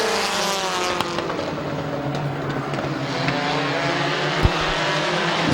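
Race cars at Midvale Speedway roaring around the oval, several engines overlapping with rising and falling pitch as they pass, loud and continuous with brief sharp pops.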